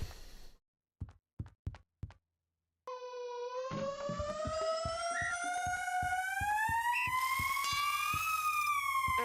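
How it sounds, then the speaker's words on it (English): Cartoonish Looney Tunes-style alarm from a video game in development: a few short clicks and a pause, then a loud rising siren-like wail with rich overtones that keeps climbing, pulsing with rhythmic beats, alone without talk. "What's up with the Looney Tunes alarm?"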